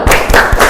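A school class group claps a short 'tepuk mantul' pattern, three quick loud bursts of hand claps, close and alone, lasting under a second.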